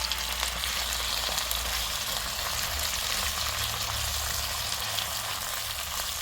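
Octopus cooking in a pot over a fire outdoors gives a steady, close sizzling and bubbling hiss that runs unbroken throughout, with no talking.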